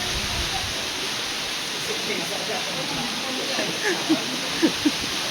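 Heavy typhoon rain and flood water pour around a trading post in a continuous loud, rushing roar, with brief faint voices and a few small knocks rising above it.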